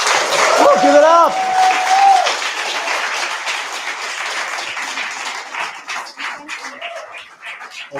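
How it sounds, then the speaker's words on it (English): Audience applause for finalists at the ClimateLaunchpad 2025 Global Grand Final, a broad loud burst of clapping that gradually thins over eight seconds, mixed with some crowd voices and whoops. "warm round of applause for our finalists"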